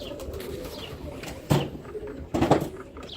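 Birmingham Roller pigeons coo continuously in a loft while two short, louder bursts of wing flapping break through the low, murmuring calls.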